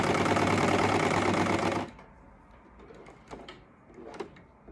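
A cover stitch sewing machine stitching bikini fabric, a loud, fast, even mechanical whirring that stops abruptly partway, followed by soft handling clicks and rustles of fabric.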